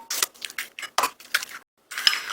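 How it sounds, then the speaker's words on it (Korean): Eggs are cracked one at a time into a bowl for a Spanish omelette, giving a close series of sharp taps, clinks and cracks in an uneven rhythm, with a short pause before a final crack. "계란을 하나씩 깨서 넣어줄게요."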